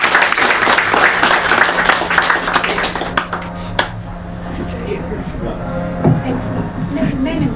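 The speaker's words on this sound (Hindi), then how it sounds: "तालियां हो जाए बहन के लिए।" Audience applause at a Holi celebration gathering: a dense, loud wash of clapping fills the first few seconds, then thins out and fades under a murmur of voices and background room noise.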